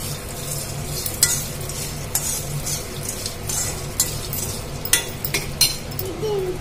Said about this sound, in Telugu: కరివేపాకు ఇట్లా వేగిన తర్వాత మనం ఈ కందగడ్డ ముక్కలు ఏవైతే ఉన్నాయో అవైతే వేసేసుకుందాము